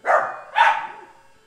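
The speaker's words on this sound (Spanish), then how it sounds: "mi perrito ladra" A small pet dog barks twice, close and loud, two sharp yappy barks about half a second apart that trail off quickly into quiet.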